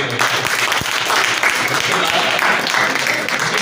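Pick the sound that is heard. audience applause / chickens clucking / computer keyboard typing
audience applause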